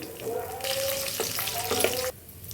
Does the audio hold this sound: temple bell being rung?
no